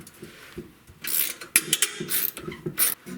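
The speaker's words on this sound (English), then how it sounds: "lock up the other end of the shear pin with your wrench and then undo the nut with the ratchet" A hand ratchet backing off the nut on a snowblower shear pin while a wrench holds the other end: a few close, quick bursts of metallic clicking with brief pauses.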